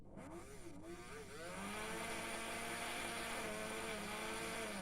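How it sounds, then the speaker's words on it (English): A small electric motor runs steadily once a closed circuit is completed, its continuous whir rising in level after a brief quieter start and holding a constant pitch throughout. "and the motor starts."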